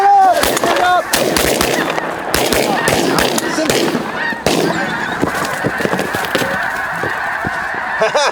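Shotgun blasts from a snow goose hunt in a large decoy spread on a hard field, several sharp reports mixed with loud, dense honking from a big flock overhead, with voices calling out.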